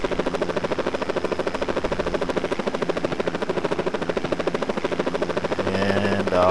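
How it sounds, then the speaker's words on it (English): Steady, loud rotor chop and engine drone fill the cabin of a blue helicopter flying over Boston, a continuous pulsing roar with a slight rise in intensity near the end. "and of course we're in a blue helicopter"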